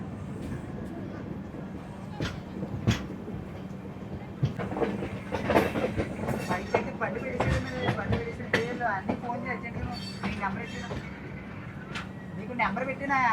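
Seshadri Express with new LHB coaches rumbles steadily at Kakinada Town station, with rhythmic clicks and clatter over a constant low drone while people talk nearby.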